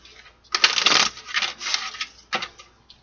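A few quick riffle bursts of cards being shuffled close by, the main flurry followed by a shorter second burst.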